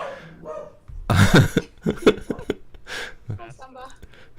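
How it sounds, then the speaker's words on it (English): A pet dog barks at the mailman at home with a few sharp, close barks and yips that sit among people talking. "It's very important to bark at the mailman."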